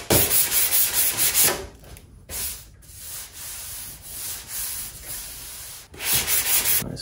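Rhythmic back-and-forth rasping of sandpaper rubbing body filler on a car trunk lid up close, in steady strokes with a few short pauses.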